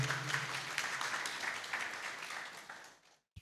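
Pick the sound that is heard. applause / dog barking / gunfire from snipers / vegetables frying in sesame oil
applause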